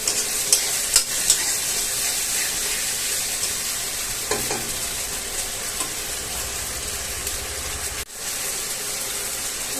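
Ginger garlic paste sautés in oil in a pan with a steady sizzle, broken by a few scraping stirs and a short break near the end.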